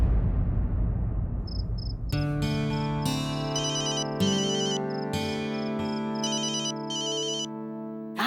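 A telephone ringtone plays as a call is placed, a steady electronic melody with repeating chirped tones that fills the clip at close range with no talking over it.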